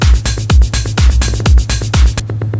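Techno drum pattern: a pounding four-on-the-floor kick with crisp hats and percussion, loud and close, ending in a quick triplet figure before the beat cuts out.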